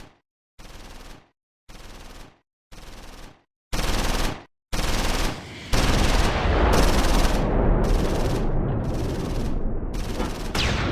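Bursts of gunfire from Close Combat 4, set in the Battle of the Bulge at Dasburg in December 1944: several separate rapid volleys with gaps between them, then sustained continuous firing that stays loud and close to the end.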